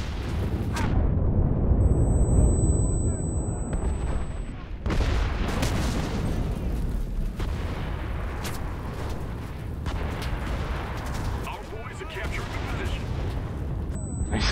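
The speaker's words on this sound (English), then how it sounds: "these artillery strikes are helping our team so much" Artillery strikes explode during a match of the shooter game Enlisted, a run of heavy booms and rumbling blasts with crackling gunfire, loud and continuous over about fourteen seconds while players talk over the din.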